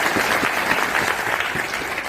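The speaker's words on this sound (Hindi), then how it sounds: "तो एक बार मैं चाहूंगा उनके लिए जोरदार तालियां" A seminar audience in Ludhiana, Punjab gives loud, sustained applause, a thick continuous wash of many hands clapping together without a break.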